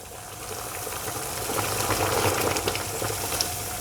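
Sea salt poured into a pot of boiling water for tortellini, the water hissing and erupting in a bubbling surge that swells toward the middle and stays churning, close and fairly loud with no talk.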